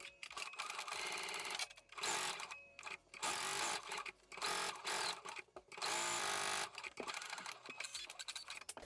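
A sewing machine stitches interlining and pattern pieces of a wedding dress in quick bursts of rapid mechanical whirring, separated by short pauses, close and clear with no talk.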